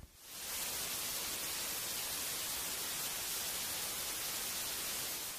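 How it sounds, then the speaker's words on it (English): Steady white noise like broadband static, hissing evenly and loudly across the whole clip after a quick fade-in, with no voices. "White noise sounds like static."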